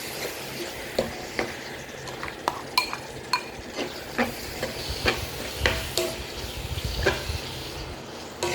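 Carrot and cabbage pieces are stirred into nasi goreng in a pan, a soft background sizzle punctuated by repeated clacks and scrapes of a spatula against the metal, close by and without speech.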